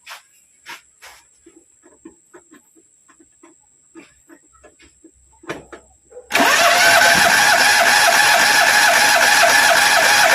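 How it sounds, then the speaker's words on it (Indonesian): A Perodua Kancil 850 engine cranks continuously and loudly on the starter during a compression test, after several seconds of quiet scattered clicks and handling sounds. "Sudah itu kita akan crank lah engine 5 hingga 6 saat ataupun 7 saat begitulah untuk dapat reading yang maksimum."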